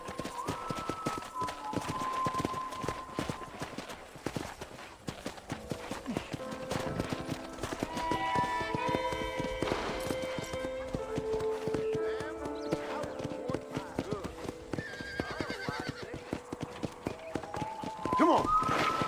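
Horse hooves clip-clopping at a trot in the Red Dead Redemption video game, a steady rhythmic run of hoofbeats throughout, with a horse whinnying and people talking over them.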